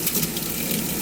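Air and water sputter through RV plumbing lines on a car hauler bus conversion, a steady gushing hiss with rough bursts as air bleeds out of the pipes, close and fairly loud.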